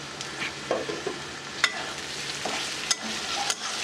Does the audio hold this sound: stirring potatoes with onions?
yes